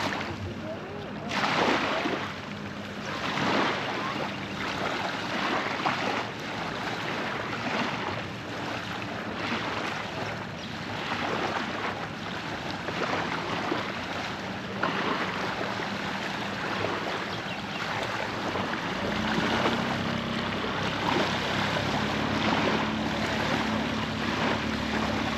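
A small motor-powered dinghy runs on open water near a Beneteau sailboat, its engine drone blending with wind and splashing water in a continuous wash of noise, with brief voices now and then.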